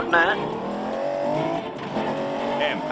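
Racing car in the James Bond Bloodstone video game, its engine note rising and sweeping steadily with brief tire squeals, held loud and continuous under music-like game audio.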